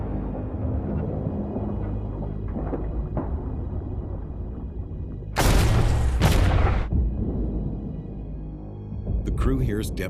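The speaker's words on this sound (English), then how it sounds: "crew hears depth charges detonate." Depth charges detonating underwater near a WWII submarine: a low, muffled rumble with deep booms and a loud, broad burst midway, followed by another shorter blast near the end.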